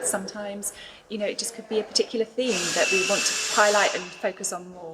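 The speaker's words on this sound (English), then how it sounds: "the drilling and everything in the background, it's because the exhibition is literally going up as we speak" A power drill whirs steadily for a couple of seconds behind someone speaking indoors while a museum exhibition is being installed, mostly under her voice, with shorter bursts around it.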